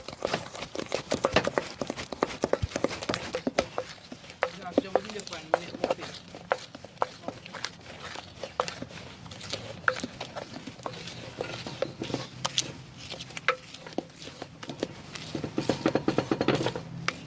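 Grated coconut, sugar and butter are mixed in a bowl for Jamaican toto, with irregular knocks and scrapes of the utensil against the bowl while a voice talks over them.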